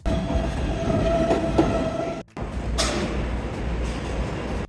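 A subway train at Journal Square station rumbles loudly and close by, a continuous roar of wheels on rails with a brief gap and a metallic squeal partway through.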